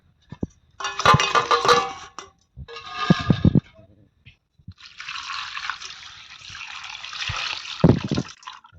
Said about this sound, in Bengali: এইবারে চলো চিংড়ি মাছগুলোকে ধুয়ে নেব।